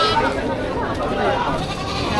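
Goats bleat amid the crowd at a busy Philippine livestock market, their calls rising over a constant hum of bargaining voices and people talking close by.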